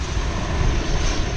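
An Airbus A319 on approach at DFW airport gives a loud, steady engine roar with broadband rumble that holds constant through a short moment, with no voices.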